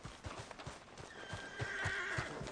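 Whinnying horse and clip-clopping hooves in a video game, a rising neigh over a steady rhythm of hoof thuds, fairly close and with no talk over it.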